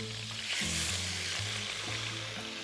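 Salted chicken breast sizzles in a frying pan for a Caesar salad, a steady, fairly quiet crackling hiss lasting a few seconds.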